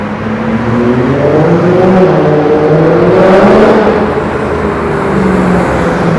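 A car engine on a downtown Toronto city street at night revs loudly and close, a sustained rising and falling roar with a droning growl that swells mid-way and holds, no talk over it.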